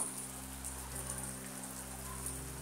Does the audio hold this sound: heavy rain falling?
yes